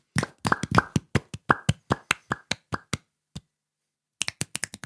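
Hand clapping, a run of about a dozen sharp, close claps in a quick uneven rhythm that slows and stops, then resumes with a short burst of faster claps after a pause.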